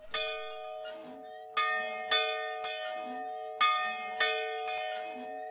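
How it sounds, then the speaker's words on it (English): Bells ring inside an old church dating from the 1860s, tested to see whether they still work. Six loud strikes fall in an irregular sequence, each ringing on with long sustained tones between them. "is to see if the bells still work"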